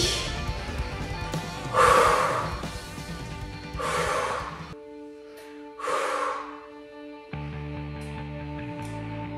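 Heavy breathing during a small-ball fitness exercise, three or four loud, breathy gusts in and out at a slow steady pace over background music.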